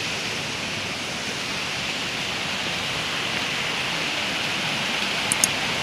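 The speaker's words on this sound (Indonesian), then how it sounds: "Oh, air terjun." Curug Leles, a waterfall in Gunung Ciremai National Park, roars close and loud as a constant, dense wash of noise with no breaks.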